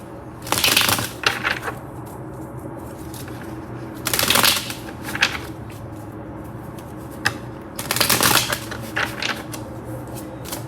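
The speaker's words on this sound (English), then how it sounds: "Let's pull some cards here." Tarot cards are shuffled in three separate bursts of crisp riffling and flicking, close and moderately loud, with quiet pauses in between.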